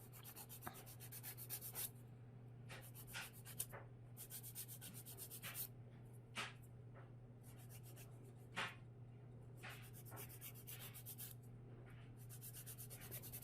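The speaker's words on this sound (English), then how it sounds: "you're just going to file your nails like you would after trimming them." Fingernails being filed with a nail file, a faint, soft scratchy rubbing in irregular short strokes with pauses, heard alone over a steady low background hum.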